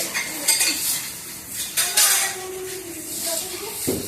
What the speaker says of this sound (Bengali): পরিষ্কার সাবান দিয়ে রোগড়ে একদম ঝাড় দিয়ে ধোয়া হচ্ছে সব বাসন